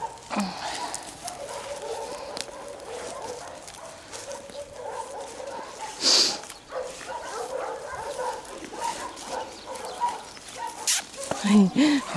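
A female dog barks and whimpers in short scattered bursts at close range while a person talks to her softly, with a sharp bark near the middle and small squeaky whines near the end.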